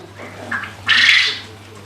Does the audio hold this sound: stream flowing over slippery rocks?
no